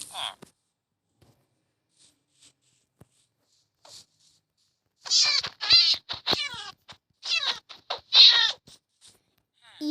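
Several cat meows from the video game Minecraft sound in quick succession, some drawn out and plaintive, after a mostly quiet stretch with a few faint clicks.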